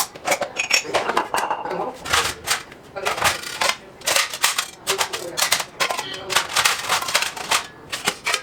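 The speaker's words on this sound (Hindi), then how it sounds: "सारे बर्तन मैं धो के रख देती हूँ" Close, busy clattering as dishes, pots and utensils are washed, with metal and ceramic clinks coming in rapid, uneven bursts that continue throughout.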